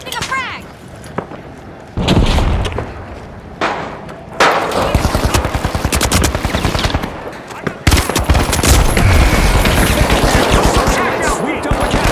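Heavy automatic gunfire and a frag grenade blast in the shooter The Finals, long loud rattling bursts with a big detonation near the middle, dense and close, with voices talking over the fighting.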